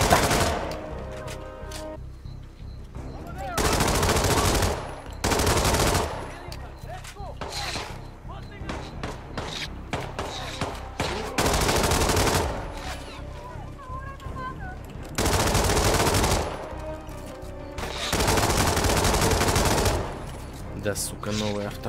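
Automatic rifle fire from the video game Hitman 2 comes in several long, loud bursts of rapid shots spread through the stretch. Someone talks between and over the volleys.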